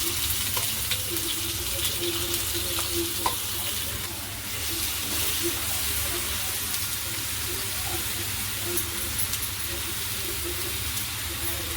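Ground masala paste fries in hot oil for a prawn masala curry, a loud, dense, continuous sizzle with faint stirring scrapes and occasional low voices beneath.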